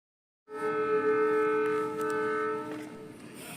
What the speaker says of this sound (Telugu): ఇలా ట్రైన్ గట్టిగా ఒక్కసారి కూత పెట్టింది